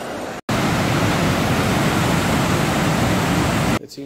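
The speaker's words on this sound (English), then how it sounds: "The outpour is so strong, it's unimaginable that the concrete reservoir on which I walk right now, it's holding this much of water" Strong water gushing from a concrete reservoir, a loud, steady roaring rush that runs almost without break, cutting out briefly near the start and falling away at the end.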